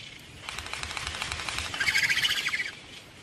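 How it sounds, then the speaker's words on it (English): Frigate birds and gannets fly high above a reef, with a steady rush of wing and wind noise and bright, rapid chirping calls that swell toward the end. "High above the reef, frigate birds and gannets hunt for fish that they scoop from the water or steal from each other."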